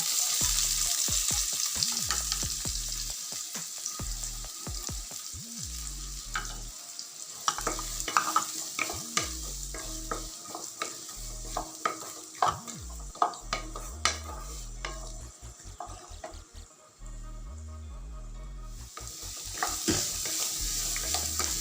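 Chopped small onions sautéing in a pan for Tamil egg curry, a soft continuous sizzle with repeated scrapes and clinks of a spoon stirring against the pan, close and fairly quiet throughout.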